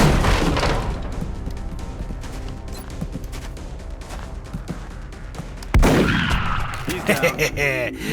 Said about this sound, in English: I can move up and blast him with a shotgun.